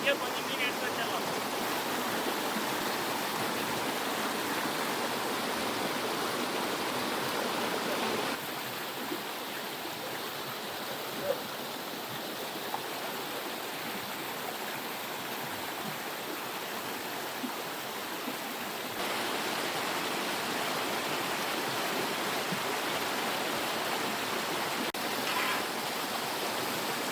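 River stream water flowing steadily beside outdoor riverside cooking of fish curry and fish fry, a continuous broad rushing wash that fills the scene, with faint voices partly buried in it.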